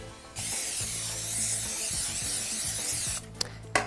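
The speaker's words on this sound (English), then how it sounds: "We're going to mist all sides of the pan with nonstick spray." Nonstick cooking spray hisses steadily onto a baking pan for about three seconds, close and continuous, then stops, followed by a few light clicks and handling sounds.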